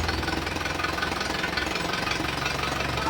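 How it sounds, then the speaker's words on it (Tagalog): An Isuzu Hi-Lander engine idles with a misfire, a steady close-up mechanical drone with uneven knocking pulses running continuously throughout, no voices over it. "Hindi na nga namamatay itong makina niya, nagkakaroon naman siya ng palya."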